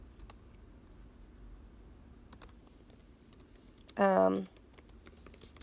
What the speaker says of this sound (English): I can type in there